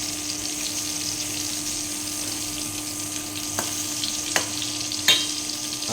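Hotdog frying on an induction cooker, a steady close sizzle with a faint electric hum and a few soft clicks of utensils, with no talk.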